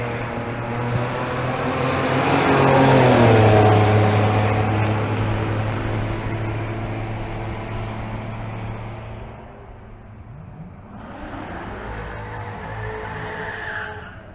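A Turbo T drag race car launching down the Bandimere strip, its engine roaring loud and close before fading into the distance as the pass goes on.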